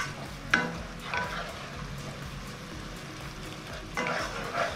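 Vegetables for fried rice are stirred in a frying pan over a low, steady sizzle. A few scraping strokes of the spatula stand out at intervals, close and without speech.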